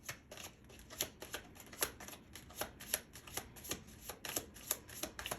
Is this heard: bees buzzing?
no